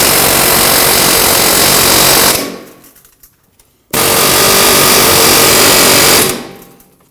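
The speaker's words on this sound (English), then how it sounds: "I'm going to be using an air hammer." A pneumatic air hammer with a 14mm chuck pounds on the back of the rear wheel hub bolts of a 2013-2015 Subaru XV Crosstrek. It fires in two loud, close, sustained bursts of about two seconds each, separated by a short pause.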